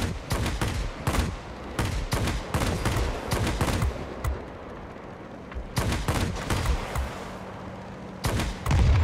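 Fighter plane guns from a J8M in World of Warplanes fire in long rattling bursts, loud and near, broken by short pauses in a tier VIII aerial battle.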